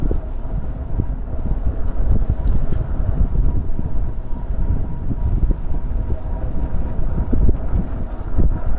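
Wind buffeting a microphone outdoors in Florida during an e-bike ride, a continuous loud low rumble with gusty fluctuations throughout, no talking.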